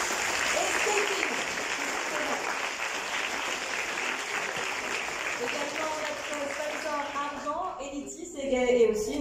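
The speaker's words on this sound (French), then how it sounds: "nos sponsors gold qui se lèvent et savourent vos applaudissements" An audience applauds its gold sponsors at the closing ceremony of the second AI4Good festival in Mauritius. The clapping is dense and sustained for about eight seconds, then thins out as a voice begins at the end.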